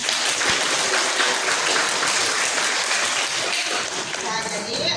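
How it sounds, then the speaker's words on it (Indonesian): A school classroom applauds a student, Pak Ari, after a biology lesson on the circulatory system, with dense steady clapping from many hands throughout and voices mixed in. "Tepuk tangan Pak Ari"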